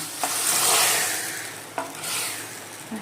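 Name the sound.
spice tempering with red chilli and masala sizzling into dal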